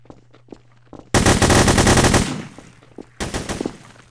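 Rapid automatic gunfire rattles in a dense, loud burst of about a second in the Hidden: Source game, with scattered single shots before it and a second shorter burst after a brief pause.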